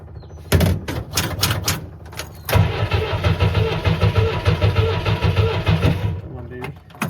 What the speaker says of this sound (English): Fuel pump, priming.